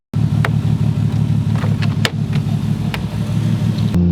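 A Nissan RB25 straight-six with an essentially straight-piped exhaust idles and burbles close to the microphone, a loud, steady low rumble with rapid pulsing and a few sharp pops on top.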